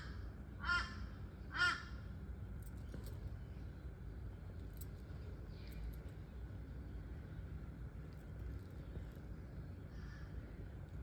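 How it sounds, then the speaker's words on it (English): Two sharp crow caws ring out early, followed by a long stretch of quiet traffic rumble with faint distant sounds. "Morning, crows."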